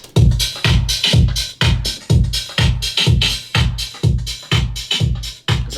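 A house music drum loop with a phaser effect pumps steadily, punchy kicks and snare hits with crisp hi-hats in a tight repeating groove, loud and alone without talk.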